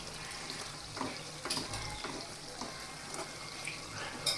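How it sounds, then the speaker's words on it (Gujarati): Garlic chutney being stirred into a bottle gourd curry gravy in a pan, a spoon scraping in repeated strokes over a soft sizzle, close and fairly quiet. "અને હવે તેને મિક્સ કરી લેશું।"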